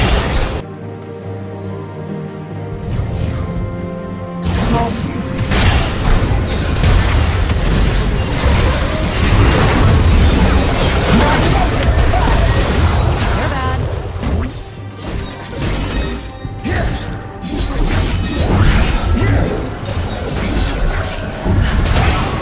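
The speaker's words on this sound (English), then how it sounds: "Blue team's turret has been destroyed." A turret destroyed in League of Legends, with crashing and booming impacts spread over a busy, loud game mix that opens with music and then turns into dense, repeated smashes and mechanical clatter.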